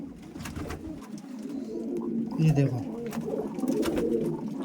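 Domestic flying pigeons coo softly and repeatedly at close range while someone talks over them.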